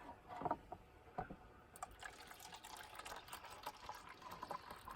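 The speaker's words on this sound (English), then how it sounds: "So I'll add some boiling water." Boiling water pours into a cup with a gurgling, splashing rush that starts after a couple of soft knocks and continues to the end.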